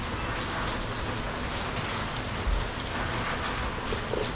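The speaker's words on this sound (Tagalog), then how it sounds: "Maagang naulan mga ka-cute." Steady heavy rain during a stormy day, a dense continuous hiss of drops on surfaces with one brief low thump midway, close and even throughout, no voices.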